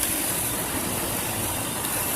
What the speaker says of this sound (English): let's go back to the engine so you can hear how it sounds